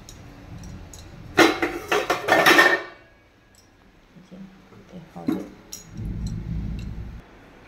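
Metal clatter of a lid being handled and set onto a cooking pot of oil-free chicken curry, a cluster of sharp clinks and scrapes close up, followed by quieter knocks and a soft low rumble.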